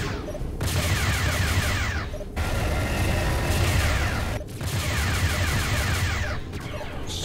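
Close-range bombing attack in the space combat game FreeSpace 2, with continuous loud, dense rumbling blasts and crackling debris in two long bursts separated by brief drops, nearly filling the whole stretch.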